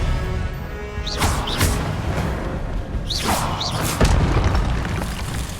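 Confringo, an explosive spell cast in the video game Hogwarts Legacy, fires several whooshing bolts that end in loud booming blasts, close and forceful, over a steady game background.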